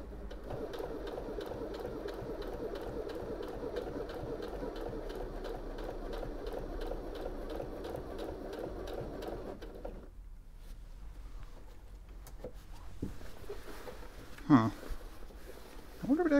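A Singer Heavy Duty HD6805C sewing machine stitches fabric at a steady, fast rhythmic clatter for about ten seconds, then stops, leaving quieter handling noises and a few soft knocks close by.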